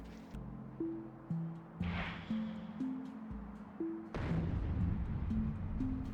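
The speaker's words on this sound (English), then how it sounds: "nuclear explosion." A nuclear explosion in the video game Factorio Space Age booms out among repeated deep blasts and rumbling, with tonal game music layered beneath the loud impacts.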